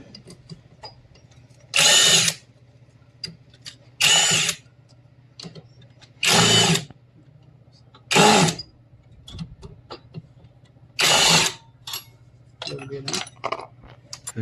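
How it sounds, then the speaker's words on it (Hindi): Power tool unscrewing the clutch cover screws on a Hero Splendor BS-6 motorcycle, five or six loud, close bursts of whirring a second or two each, separated by quiet gaps with small metallic clicks and handling noises. "सबसे पहले इसका जो स्क्रू है उसको खोल लेते हैं"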